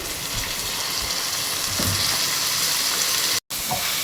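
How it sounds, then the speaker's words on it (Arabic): Rice goes onto vermicelli browned in a pot for Egyptian koshari, with a loud, steady sizzle and hiss that continues throughout, broken by one very brief dropout near the end. "معايا الشعريه احمرت هحط عليها الرز"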